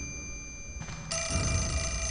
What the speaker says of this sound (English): Huh? Oh, a phone?